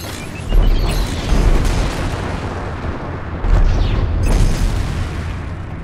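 Missiles launch and detonate in the space combat game Strike Suit Zero, heavy booming blasts in two loud surges over a dense low rumble, with no talking.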